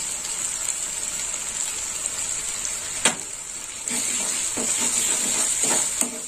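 Spice paste with cumin powder sizzles and fries in a pan, a steady hiss broken by a few scraping stirs of the spoon against the pot.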